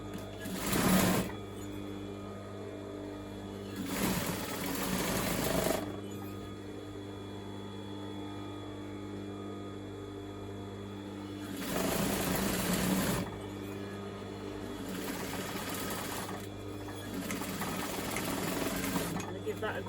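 A sewing machine stitching the hem at the bottom of a pair of shorts in short separate bursts of rapid whirring, with a steady hum between runs and a person talking throughout.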